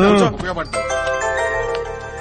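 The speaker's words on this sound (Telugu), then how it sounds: "ఎన్నిసార్లు ఫోన్ చేస్తాడయ్యా వీడు?" A mobile phone rings again and again with a bright electronic melody. A voice-like sweep opens the clip, then the steady ringtone carries on close and clear.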